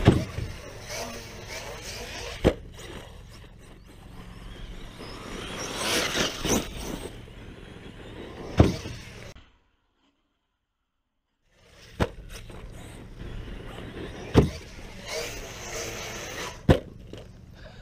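ARRMA Outcast 6s RC car racing up a ramp and landing a jump: buzzing motor whine with sharp impact thumps, a brief silent gap, then more driving and hard knocks.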